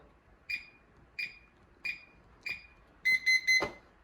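A Kwikset Powerbolt 2 electronic deadbolt gives four evenly spaced single beeps, then a faster burst of three beeps followed by a sharp click.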